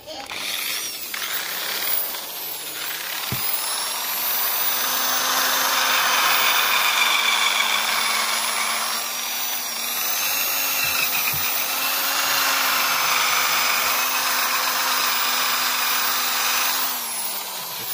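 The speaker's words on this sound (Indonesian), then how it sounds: "Saya akan pakai mesin wax ni ya" A wax polishing machine buffs toothpaste over a Perodua Myvi headlight, giving a steady whirring motor drone with wavering pitch that runs close and continuous, with a brief knock partway through.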